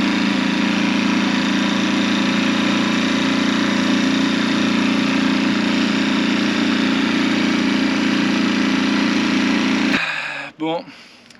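A faulty boat engine runs loud and steady with a constant droning hum, then cuts out abruptly near the end, leaving a few brief clunks.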